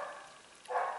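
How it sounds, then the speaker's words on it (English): A single faint, muffled bark from a dog outside, distant and brief, follows a quiet pause in a still indoor room. "I apologise for the dog barking outside"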